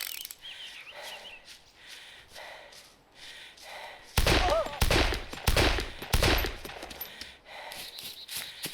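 Gunfire in DayZ Retro: a loud burst of several heavy shots around the middle, sharp thuds in quick succession, with quieter game sounds before and after.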